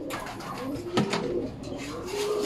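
Racing pigeons back from a training toss in Laguna give soft, low repeated coos close by, with light outdoor background noise.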